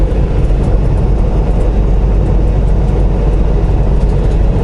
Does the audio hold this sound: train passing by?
yes